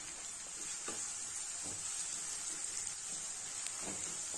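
Sliced onion, cut green chilies and curry leaves fry in oil for a tomato kurma, a faint, steady sizzle with a few soft stirring taps and no voice.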